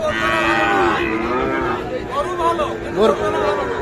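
A cow moos in long, drawn-out calls close by at Ambari cattle market, among Sahiwal bulls, with people talking and the murmur of a busy crowd around it.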